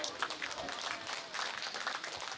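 An audience at a National Children's Day event in Indonesia claps in a dense, steady burst of applause that fills the room. A voice talks over the clapping.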